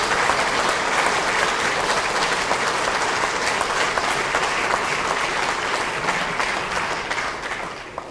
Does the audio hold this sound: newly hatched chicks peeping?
no